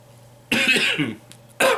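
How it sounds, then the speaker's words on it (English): Two harsh, close coughs, the first longer and rasping, the second a short sharp burst after a brief pause, in a quiet room. "sorry for coughing so much"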